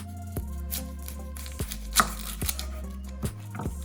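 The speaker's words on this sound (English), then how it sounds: "You want to chop off both ends" A knife chops the ends off an onion on a cutting board, a handful of sharp, distinct knocks spaced irregularly against a low steady hum, no voices.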